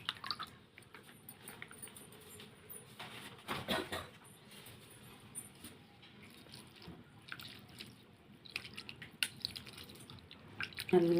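Cold fermented rice being mashed and mixed with curd and salt by hand, giving soft wet squishing and dripping sounds in irregular close bursts, alone without talk.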